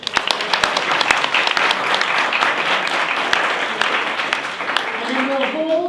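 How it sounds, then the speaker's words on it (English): Audience applause greets two state Senate candidates, Senator Jim Beall and Assemblywoman Nora Campos, at a candidate forum: dense, steady clapping from a crowd that holds throughout, with a faint voice creeping in near the end. "So this is your opportunity to clap for our two speakers, Senator Jim Beall and Assemblywoman Nora Campos."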